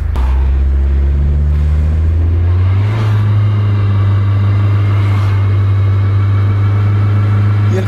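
A car engine revving hard during a tire burnout, with a loud, sustained roar that climbs in pitch and holds steady close by.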